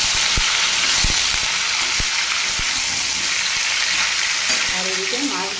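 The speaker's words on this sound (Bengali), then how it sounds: "এবারে আমি লাউগুলো দিয়ে দেবো। লাউটাকে একটু কষিয়ে নেব।" Bottle gourd stir-fried in hot oil with potatoes and five-spice in a pan, a loud steady sizzle with sharp clicks of a spatula scraping and tossing, no voices.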